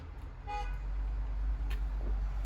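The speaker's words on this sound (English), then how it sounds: "More beeping." Car horns toot briefly out in street traffic, two short honks at a distance heard faintly through a window over steady low traffic rumble.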